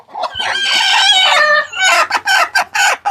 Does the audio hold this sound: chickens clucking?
yes